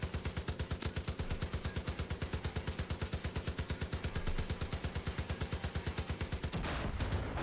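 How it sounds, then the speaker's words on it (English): Sustained rapid gunfire in the video game Far Cry, a fast regular stream of shots with a high whine above, stopping abruptly near the end. "Did you hear all that gunfire?"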